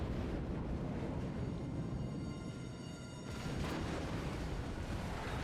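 Heavy naval guns booming from a battleship in the World of Warships game during a fight with a Miyako cruiser, a dense continuous rumble of low blasts that swells again near the end.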